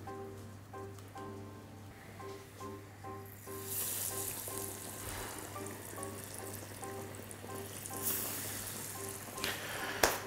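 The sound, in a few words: frying stuffed potatoes in oil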